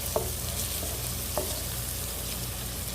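Onions cook for venison stroganoff in an electric skillet, giving a continuous close sizzle with two or three light utensil taps against the pan, no voices over it.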